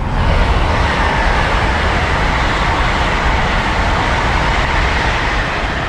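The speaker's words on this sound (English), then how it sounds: "There's a train coming actually, so I'll just hang fire a second." A train on the East Coast Main Line rushing past close by, a loud, steady roar of wheels and rail noise filling the whole stretch without a break.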